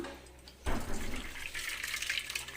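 Boiled jackfruit seeds and their coloured cooking water are poured into a bowl, a sudden close splash and gush of liquid after a quiet start that keeps running briefly.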